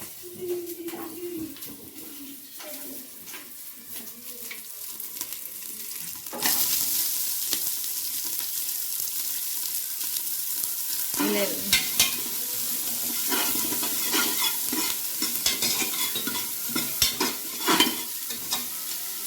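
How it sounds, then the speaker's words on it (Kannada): Onions fry for biryani masala, sizzling steadily in a pan while a spoon stirs and scrapes, with louder sizzling midway as stirring continues; close and alone, with no talking. "ಈರುಳ್ಳಿ ಚೆನ್ನಾಗಿ ಫ್ರೈ ಆಗಬೇಕು."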